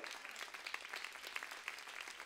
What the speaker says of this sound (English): Go ahead and clap for the Lord.